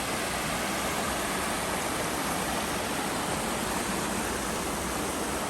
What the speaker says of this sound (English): I'm actually looking at a smaller waterfall.